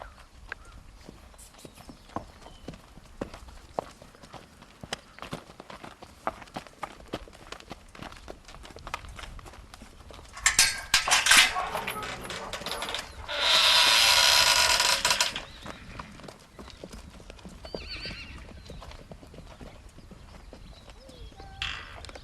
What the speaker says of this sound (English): These are the yearling fillies.